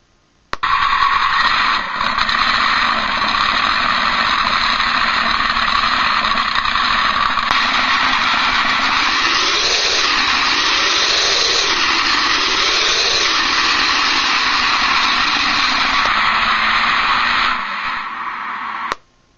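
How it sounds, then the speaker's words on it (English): An RC sound unit plays a monster truck engine sound through a small speaker, a loud, continuous buzzing rumble that swells in pitch a couple of times midway before cutting off. "So here we go, monster truck."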